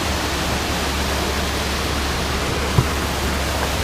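Steady, loud broadband roar of a very tall waterfall at Cachoeira do Paredão, a continuous wash of falling water with no pauses, a single faint knock near the end.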